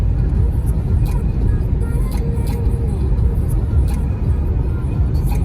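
A 2022 Toyota Fortuner GXL driving on dirt roads near a dam gives a steady, close, low engine and road rumble throughout, with faint rattles over the top.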